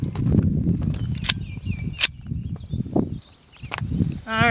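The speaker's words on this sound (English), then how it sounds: "You're up with the old Colt 1903" Gunshots from an old Colt 1903 pistol at an outdoor range, a couple of sharp cracks spaced apart amid ongoing conversation and background chatter.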